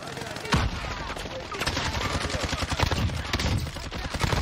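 Rapid automatic gunfire from the Call of Duty Warzone battle royale, dense bursts of shots running throughout at close range, with players' voices talking over the shooting.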